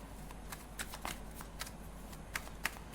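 Tarot cards are shuffled by hand, giving soft riffling and sharp card snaps at close range against a quiet background hum; no talking.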